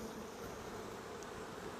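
Honeybees buzzing around an open Flow Hive during an early-spring hive split, a dense continuous droning hum that stays close and steady with no talking.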